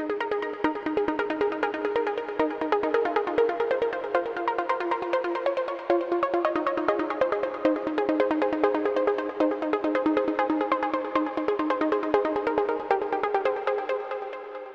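Bright synth pluck notes recreating the lead from a trance track run in a quick repeating melodic pattern, crisp short attacks ringing out evenly for the whole stretch with no voices.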